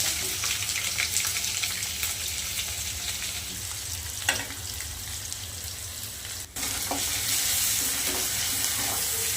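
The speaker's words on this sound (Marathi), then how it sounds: "मसाले ना लाल झाले त्याच्यात आपण कांदा टाकून घेऊया" Onion frying in reddened spices in a pan, a steady close sizzle running throughout with a few stirring clinks.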